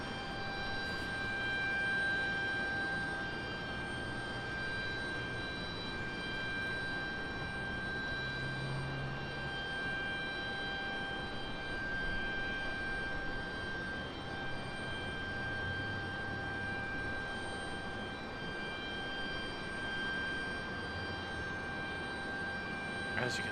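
Airliners arriving at Raleigh-Durham International Airport produce a steady, distant broadband engine roar that runs throughout, with a high constant whine on top.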